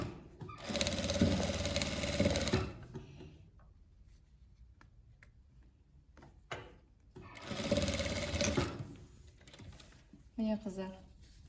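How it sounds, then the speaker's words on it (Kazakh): Sewing machine stitching a patchwork ethnic bag, two distinct close bursts of rapid stitching of about two seconds each separated by a quiet gap with faint handling noises, plus a brief spoken comment near the end. "Астына тоғыралап, 4 сантиметр көлемінде тігіп шығамыз."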